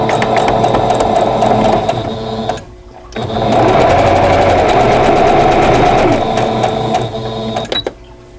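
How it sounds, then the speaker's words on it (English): A sewing machine stitches quilt block pieces into rows, running in a loud, steady, close mechanical whir. It stops for about half a second, starts again, and stops once more near the end. "I'm going to sew all these pieces into rows"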